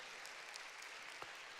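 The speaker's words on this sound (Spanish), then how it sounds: "Démosle un aplauso a nuestro Dios por eso." Church congregation applauding during a sermon, a short wash of many hands clapping, distant and very faint, steady for under two seconds.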